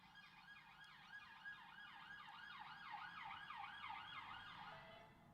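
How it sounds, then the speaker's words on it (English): A wailing emergency siren rises and falls repeatedly, steady and fairly close, over low traffic rumble. "Sorry about the siren."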